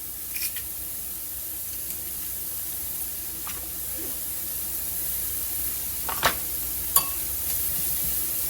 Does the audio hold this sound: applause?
no